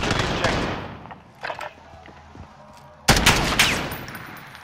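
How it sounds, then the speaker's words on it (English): Video game gunfire bursts out in loud rapid volleys, first at the start, then in a few scattered shots, and again in a sharp sustained burst near the end, with no talking over it. "Guy was shooting at me"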